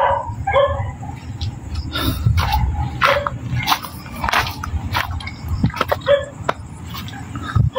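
Dogs bark over and over, with yips and sharp barks overlapping a constant low rumbling background, fairly close and loud throughout.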